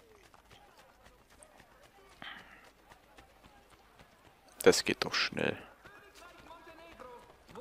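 A short burst of galloping hoofbeats from a horse in the video game Assassin's Creed Brotherhood, rising suddenly and loud for about a second amid quieter game ambience, with someone talking.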